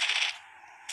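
A sniper shot fires in the mech battle game Mech Arena: one sharp, loud crack at the start, then a short decaying tail and a second burst near the end, with no voices.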